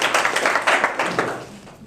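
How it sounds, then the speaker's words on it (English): A small audience gives a short burst of clapping, a few distinct claps close together that quickly thin out and fade. "We can give him a round of applause too."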